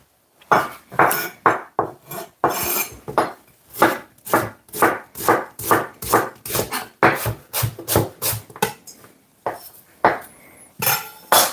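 A knife slices a carrot at an angle on a board, producing a brisk run of about twenty sharp, evenly spaced chops, loud and close, with a brief pause near the end.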